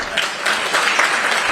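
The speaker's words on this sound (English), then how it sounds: "A round of applause again." Audience applause at an annual internal audit conference, a dense, steady wash of many hands clapping at once that holds evenly from start to finish.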